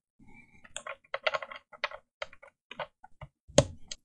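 Typing on a mechanical keyboard fitted with Greetech or Gateron switches: a burst of sharp, close key clicks in an uneven rhythm over several seconds, ending with one louder clack, no talking.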